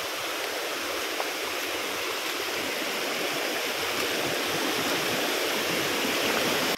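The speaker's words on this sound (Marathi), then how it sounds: "पुन्हा त्याच ओढ्यावरती आलोय." A swollen village stream in heavy monsoon rain rushes past in a steady, dense roar, close and unbroken for the whole stretch with no voices.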